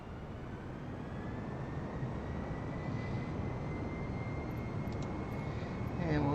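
Airbus A320 engines in a flight simulator game, a steady low roar building slightly during the takeoff roll, growing louder at the end.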